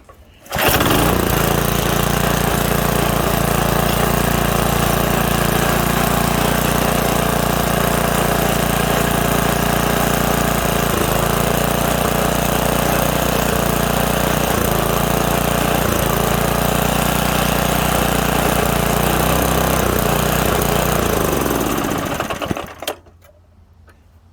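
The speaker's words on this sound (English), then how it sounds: "But the fact that this thing is running and blowing smoke is amazing." An old 2 1/4 hp Briggs and Stratton small engine runs steadily, smoky after sitting for decades without choke or air filter, a loud continuous close-up drone that cuts off near the end.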